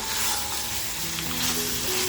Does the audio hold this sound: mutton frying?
yes